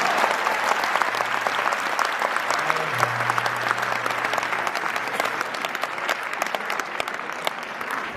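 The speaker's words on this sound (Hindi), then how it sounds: "तालियां पूरा सदन इस बात पर बजाएगा" Sustained audience applause at a Hindi comic poetry gathering (hasya kavi sammelan), steady dense clapping filling the hall throughout with a faint low hum beneath.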